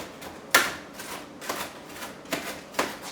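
A knife cuts through tomatoes on a board in a kitchen, a few sharp, separate taps spaced irregularly, close and fairly quiet, with soft rustling in between.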